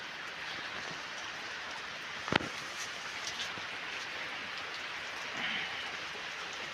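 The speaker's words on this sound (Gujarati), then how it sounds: "વરસાદ મને પાછળથી આવે હળવદ બાજુથી" Rain falls steadily in open farmland, a soft, even hiss that holds throughout, with one sharp knock partway through and no voices.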